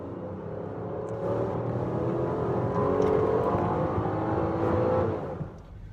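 A 2016 Chevy Impala with a V6 accelerates hard, its engine note climbing in a loud, sustained roar and whir that tapers off at the very end, with no one speaking.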